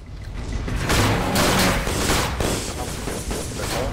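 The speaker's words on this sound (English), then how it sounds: "Explode, dynamite, explode!" Dynamite blasts in the airship battle game Guns of Icarus, a dense run of heavy booming explosions rolling together loudly for several seconds with no pause.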